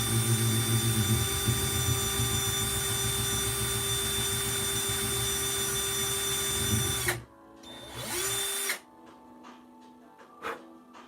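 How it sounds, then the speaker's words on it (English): An electric drill with its hammer mode switched off bores a shallow hole for sinking a magnet. It makes a steady, loud whirring grind for about seven seconds, then stops. A brief second burst follows, then a few light clicks and taps. "drill a hole here. It doesn't have to be very deep, just deep enough to sink a magnet into"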